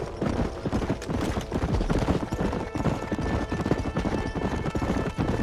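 Horses galloping in Red Dead Redemption, a dense continuous clatter of hooves with occasional whinnies, loud and close throughout.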